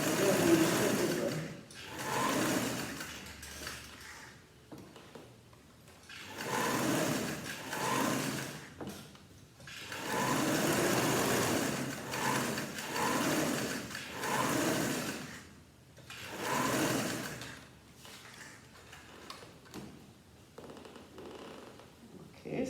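A sewing machine stitching a vest runs in several whirring bursts of a few seconds each, separated by short pauses, close and moderately loud.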